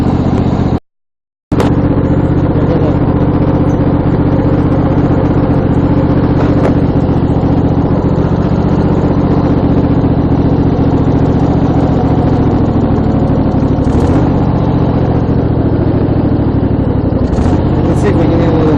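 A new riding mower's engine idles nearby in a loud, steady, low rumble that runs throughout with only a brief dropout near the start, and people speak over it.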